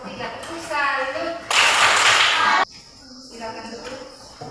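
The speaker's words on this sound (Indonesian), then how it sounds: "Ya, tepuk salut untuk kelompok 3." A class claps for a group of students in a short burst of applause, with speech before and after the clapping.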